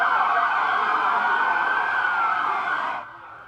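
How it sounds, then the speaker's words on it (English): Steady, loud police siren wail holds for about three seconds and then cuts off abruptly, leaving quieter traffic rumble behind. "With lights flashing and sirens blaring"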